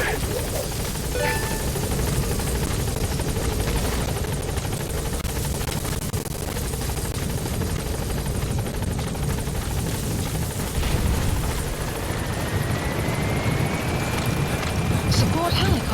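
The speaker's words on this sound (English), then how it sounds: "Support helicopter has arrived." A support helicopter in MGSV hovers at a landing zone, its rotor a loud, continuous chopping drone that fills the whole stretch, with a rising whine late on.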